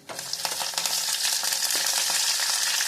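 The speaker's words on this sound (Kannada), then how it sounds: "ಇವಾಗ ಚಟ್ಪಟ ಅಂತ ಸಿಡಿಲಿ ಅದು. ಇವಾಗ ಬೆಳ್ಳುಳ್ಳಿ ಕರ್ಬೇವಿನ ಸೊಪ್ಪು ಹಾಕ್ತಾಯಿದ್ದೀನಿ." Garlic and curry leaves crackle and sizzle in hot oil with dense, steady spitting pops that swell after an opening burst and continue close and loud throughout.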